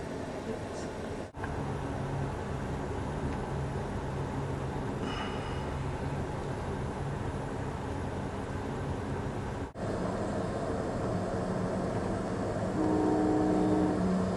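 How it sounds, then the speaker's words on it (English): An Amtrak Sunset Limited passenger train pulls out, rumbling steadily for a long stretch, with a low hum and some brief clanks as it gets under way. "Now it's time for our train to pull out."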